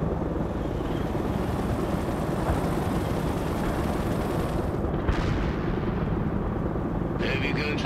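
Heavy gunfire and artillery in the video game World in Conflict, a steady rumbling barrage of booms and shots with distant aircraft drone, running loud and unbroken while voices speak over it.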